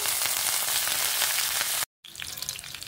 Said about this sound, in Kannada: ಹಾಗೆ ಸ್ವಲ್ಪ ಕರಿಬೇವಿನ ಸೊಪ್ಪು ಹಾಕ್ತಾ ಇದ್ದೀನಿ.